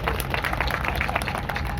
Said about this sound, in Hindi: इनके लिए भी ताली बजा दो एक बार तो